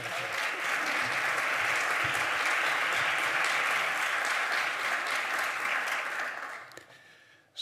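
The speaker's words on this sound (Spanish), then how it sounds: "Un aplauso." Steady audience applause fills a hall at a conference on emotionally healthy organisations, dense and even for several seconds before tapering off at the end.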